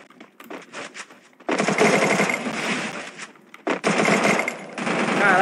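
Sustained machine gun fire in a tactical shooter video game, loud, dense bursts: a few short volleys, then two long continuous streams of rapid fire with a brief pause between them.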